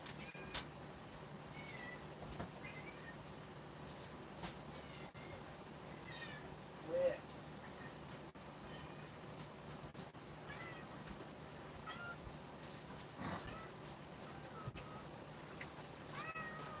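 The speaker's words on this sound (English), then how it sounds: "This is my old lady cat." An elderly female cat of about 13 meows several times across a quiet room, the calls fairly faint and spaced out over a steady low background hum.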